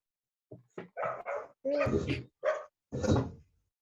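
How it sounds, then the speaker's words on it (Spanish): A dog barks several times in the background during an online primary-school class, short loud woofs in an irregular series with a faint whimpery trailing tone. "Hay un perro ahí al fondo."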